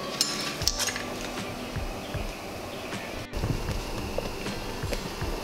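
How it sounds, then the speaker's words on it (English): Blueberry jam stirred in a cooking pot, a spoon scraping and clinking against the metal in irregular strokes, fairly quiet and close, with no talking. "So I've been stirring this to keep it from sticking to the bottom"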